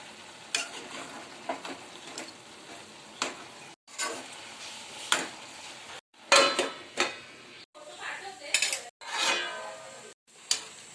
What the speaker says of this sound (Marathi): चला, एकदा भाजी खालवर करून घेऊया।